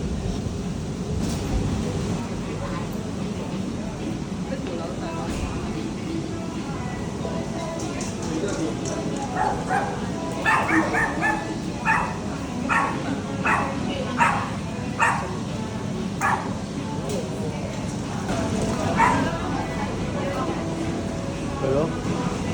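Dogs give a run of short, quick barks and yips in the middle of the stretch. People talk over the barking, and there is a constant murmur of background noise.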